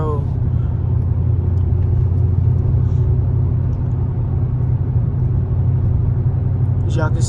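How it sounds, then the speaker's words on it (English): Steady low road rumble from inside a Chrysler cruising at about 40 mph, constant and close throughout, with a voice speaking over it. "this Chrysler literally doing like 40 miles per hour"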